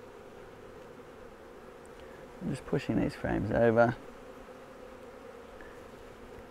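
Honeybees buzz near the mic in a brief loud swell during a Flow Hive brood inspection as frames are pushed over, with a quiet hum before and after and a person speaking briefly.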